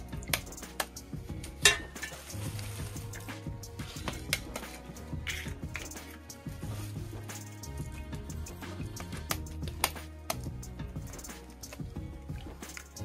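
Broken eggs are mixed with wild vegetables in a bowl, giving close, irregular clicking and tapping of a utensil against the dish, repeated steadily with soft squishing and no talk.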